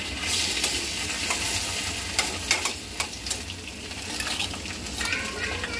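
Shrimp frying in a hot pan, a busy continuous sizzle and crackle with scattered sharp pops and a few utensil scrapes, close and fairly quiet throughout.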